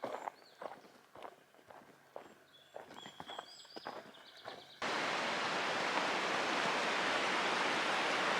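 Footsteps crunch along the Pacific Crest Trail, then Pass Creek, which flows into Jackson Meadows Reservoir, takes over as a loud, close, steady rush of flowing water.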